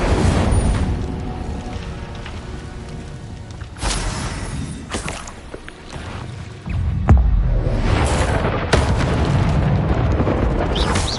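Incendio fire spell cast as a magic sound effect: a dense, roaring whoosh of flame with heavy low rumbling bursts, swelling and surging loudly across the whole span with little pause.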